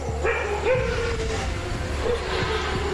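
Village dogs gathered on alert to a prowling predator bark in a few sharp, scattered yelps, moderately close, over a constant low rumble of background noise.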